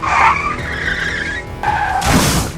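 A car crashing into a motorbike on a road, with loud tyre skidding and screeching across the whole stretch, then a harsher broadband burst of impact near the end, no talk.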